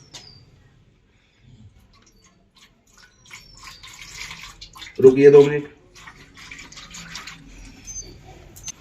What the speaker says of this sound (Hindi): अब ये गर्म पानी है, ये ठंडा पानी है, थोड़ा थोड़ा करके इसमें डालिए।